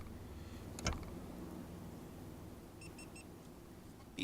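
Three short, evenly spaced electronic beeps from a nearby GoPro camera, faint over a steady low background hum.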